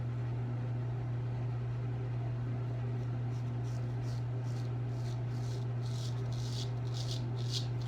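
Razor strokes against the grain up the neck and cheeks, a series of short raspy scrapes growing more distinct toward the end, over a steady low electrical hum.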